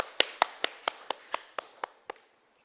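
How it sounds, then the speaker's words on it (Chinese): Congregation at a Presbyterian church clapping for the pastor, heard as about ten crisp, evenly spaced claps in a slow steady rhythm that stop abruptly, leaving silence. "那我们给他拍手，感谢牧师"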